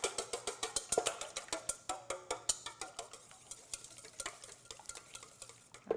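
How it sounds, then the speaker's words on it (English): An egg is whisked briskly in a bowl, with a fast, even run of light clicking strokes close by and no talk. "Going to whisk that up."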